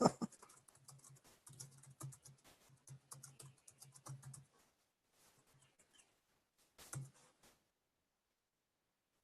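Bursts of quick key clicks from a computer keyboard during the first half, then sparse taps with long quiet gaps, close and fairly soft, with a faint steady hum underneath.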